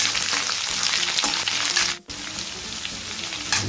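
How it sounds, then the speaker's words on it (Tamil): Chopped onions sizzle and fry steadily in a pan while being stirred, a dense continuous crackle with a brief dip near the middle before resuming, close and fairly loud, with no talking. "வெங்காயத்தோட பச்சை ஸ்மெல் போகிற வரையும் நல்லா ஸ்டிர் பண்ணிக்கலாம்"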